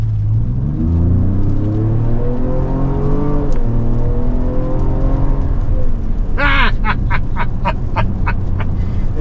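A 2025 Ford Explorer ST accelerates hard down a road, its engine note climbing loud and steady through the run, with a brief bright squeal or whoop near the end.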